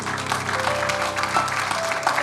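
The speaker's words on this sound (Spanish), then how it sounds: "Denle un aplauso a Cristo." Church congregation applauding during a Spanish-language Christian sermon, a steady wash of many hands clapping with a faint sustained tone and voices underneath, moderately loud throughout.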